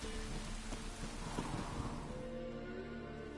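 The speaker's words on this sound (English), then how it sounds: "if it don't stop raining, my arse will rot off" Steady rain falling in the Witcher 3 video game, a soft continuous hiss of drops, fairly quiet, with faint low rumbling and tonal background ambience beneath.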